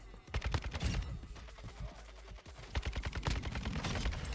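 Rapid bursts of gunfire in Modern Warfare 2, a dense run of sharp shots in two clusters with a short lull between, fairly quiet overall.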